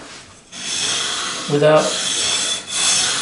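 A 240-grit radiused sanding block rubbed over an Avon Marauder guitar's fretboard, a steady close rasping scrape with brief breaks between strokes, a voice talking over it.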